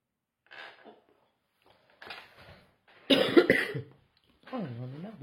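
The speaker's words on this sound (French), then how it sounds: "Oh, j'en ai marre de tousser." Several harsh coughs in separate bursts, the third loudest and most forceful, close up with short silences between them.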